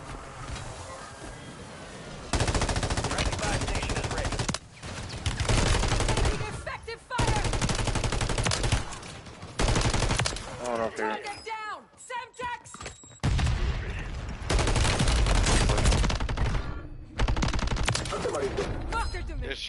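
Gunfire in Warzone 3, dense bursts of rapid automatic shots in repeated volleys with short pauses between them, close and loud, while players talk over it.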